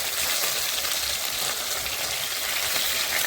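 Fish frying in hot oil in a pan for a fish-and-potato curry, a steady broadband sizzle that holds at an even level throughout, with no voices over it.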